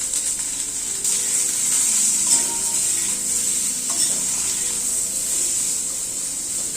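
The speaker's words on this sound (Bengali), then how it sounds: "সজনে ডাঁটা আর আলুটাকে একটু মিনিট 2-3 মতো একটু ভেজে নিলাম" Drumstick pieces and potato sizzle steadily in hot oil with salt and turmeric, a constant hissing fry close by, with occasional stirring scrapes and clinks against the pan.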